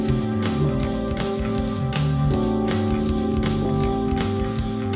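A guitar vamp meant for soloing over repeats a short chordal figure over a busy low groove with rhythmic accents, continuous and fairly loud, with nobody speaking.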